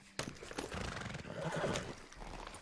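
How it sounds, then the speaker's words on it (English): Ghost, a horse in Red Dead Redemption 2, lets out a drawn-out whinny alongside clip-clopping hooves, close and fairly quiet, with no one talking over it. "Get to our trusty horse, Ghost."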